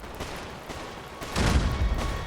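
A burst of rapid gunfire crackles in the video game Fallout 4, then a heavier rumbling explosion joins in, loud and continuous like a chaotic firefight.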